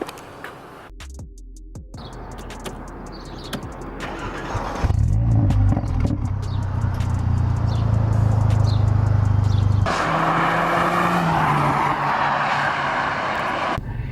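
A used Mercedes A45 AMG starts up and drives, its engine climbing from idle into a louder, steady roar after a few seconds, then shifting to a higher droning pitch as it moves off, close and prominent with no talking.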